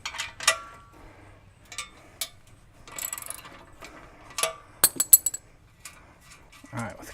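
A 9/16 wrench works the rear muffler clamp on a Harley Road King, giving scattered close metallic clicks and ratcheting ticks, with quiet stretches between them.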